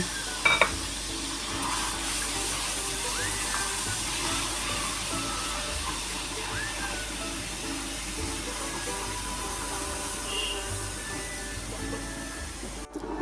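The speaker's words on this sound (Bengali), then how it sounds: "এখন এটার মধ্যে মিক্সড করে দিচ্ছি দুধ" Boiled milk being mixed into caramel in a pan for mishti doi, a long, even bubbling and stirring hiss that holds steady throughout, with a single louder clink near the start.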